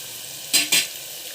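A spatula stirs pulao ingredients frying in hot oil, giving two quick scraping strokes over a steady background sizzle.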